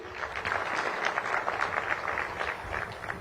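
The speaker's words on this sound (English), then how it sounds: "Please give them a round of applause." Audience applause at a Uganda–South Africa trade and investment summit, a steady, dense clapping from a sizeable crowd that holds evenly for the whole stretch with no voices over it.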